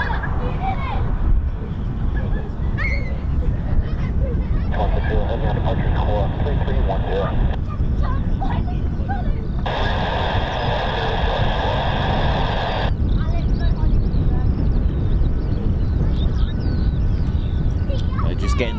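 A heavy USAF C-17 Globemaster III departs RAF Mildenhall. Its broad, steady roar fills the whole stretch, with a couple of brief tonal swells partway through.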